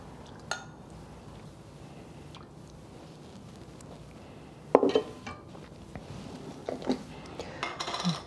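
A spoon scrapes and clinks against a pot of egg drop soup seasoned with sesame oil, with soft liquid swishing and a few sharper clatters toward the end, close and fairly quiet.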